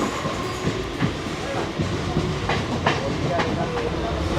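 An almost empty Howrah–Digha local train running, its continuous rolling rumble broken by regular clickety-clack beats of wheels over rail joints, loud and close from inside the carriage.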